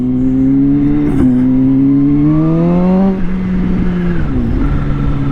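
A 2023 Kawasaki ZH2 motorcycle accelerates hard and loud and close, its engine note climbing steadily through the gears with a brief shift dip partway through, a continuous rising roar.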